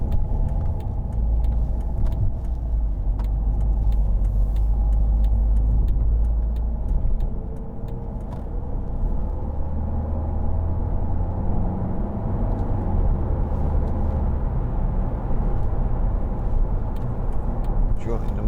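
A 2015 Volvo V40 Cross Country D2 diesel car joining a motorway, with steady low road and engine rumble throughout and brief gentle swells of acceleration.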